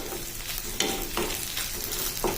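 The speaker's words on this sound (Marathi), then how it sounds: "या उरलेल्या तुपामध्ये आपल्याला दोन मोठे कांदे उभे कापून चांगले परतून घ्यायचेत" Sliced onions fry in ghee in a pan, a steady close sizzle broken every half second or so by scraping stirs of a spatula.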